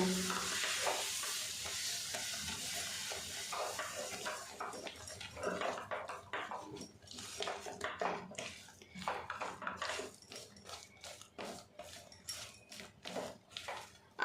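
A spoon stirs a mango halwa mixture of mango pulp with cardamom powder and a pinch of salt in a pan, soft sizzling fading into repeated close scrapes and taps against the pan, no one speaking.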